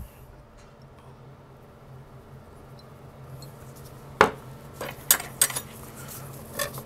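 Honey and hot sauce are stirred together in a cup, giving a few sharp clinks and scrapes of a utensil against the cup after a quiet stretch, close and fairly faint, with no talking.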